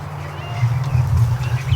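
Ducks in a barn, Muscovy and Dalmatian among them, keep up a low, continuous murmur of quacking and honking close by.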